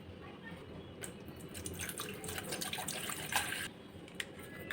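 Water splashes and trickles from a tap into a bowl of vegetable peels set to soak in a home kitchen, a soft, steady running pour with small drips, fairly close and alone.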